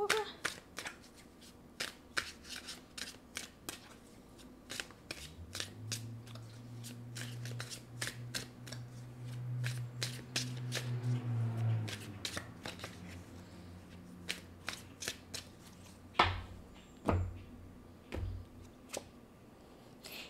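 Tarot cards shuffled by hand in a quiet room, a run of crisp riffling and tapping clicks with a soft steady flutter in the middle, then scattered sharper snaps near the end.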